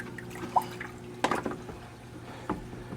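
Water is drawn out of a reef aquarium by a plugged-in siphon pump, giving a few faint wet drips and gurgles over a low steady hum, close by and with no talking.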